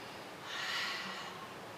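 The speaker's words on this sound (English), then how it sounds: "So take a nice deep breath" A single slow, deep breath drawn in through the nose, close and soft, swelling over about a second and then fading, with no talking around it.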